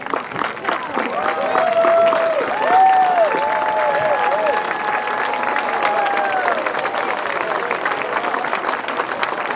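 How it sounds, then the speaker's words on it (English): An audience at a high school graduation ceremony applauds in a sustained, dense wash of clapping, with a few whistles and cheers rising early on, then settling into a steady, slowly fading round. "Seniors, give them a round of your applause."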